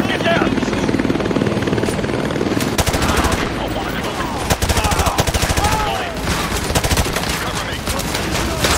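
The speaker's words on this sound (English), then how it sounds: "Enemy helicopter! Get down! Get down!" Enemy attack helicopter in the Call of Duty Modern Warfare 2 remaster, its rotor chopping loud and steady throughout while bursts of machine-gun fire crackle over it and soldiers shout beneath the battle.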